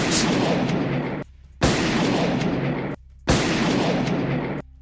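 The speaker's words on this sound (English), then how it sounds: "You will get a 21 frickin' gun salute" A 21-gun salute sound effect, three long, loud blasts of roaring noise, each lasting over a second and separated by brief silent gaps, with no one talking.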